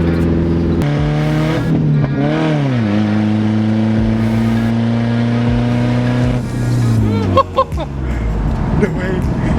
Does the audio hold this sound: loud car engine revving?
yes